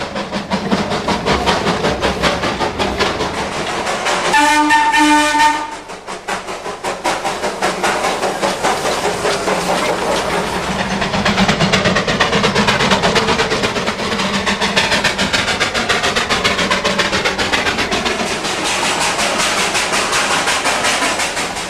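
A Darjeeling railway train rumbles and clatters past close by along a town's main street for a long stretch, with a brief horn-like tone early on and steady rolling noise throughout.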